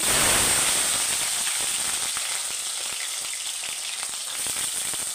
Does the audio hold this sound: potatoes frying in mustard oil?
yes